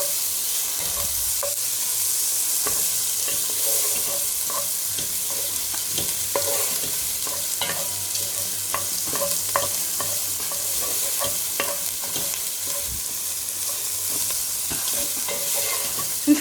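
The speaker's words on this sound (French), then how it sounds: "J'ai changé d'ustensile pour mélanger, c'est plus pratique." Pork belly and onions caramelize in a pot for veal stew, a steady sizzle of frying under repeated scraping and stirring strokes of a utensil, close and continuous with no talk.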